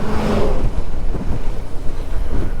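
Cold wind rushes past during a winter motorcycle ride through mountain valleys on the way from Jammu toward Kargil, a steady broadband roar of air buffeting the microphone throughout, with no talking.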